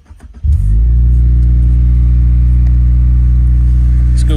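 A 2023 Subaru WRX engine turns over and catches, then holds a loud, steady, raised idle drone close by, with no talking.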